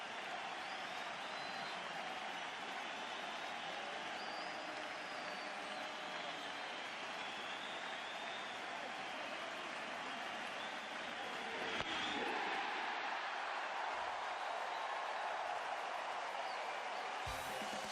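Baseball crowd at a 2007 World Series game between the Rockies and Red Sox, roaring and applauding in a sustained wall of sound that swells near the end.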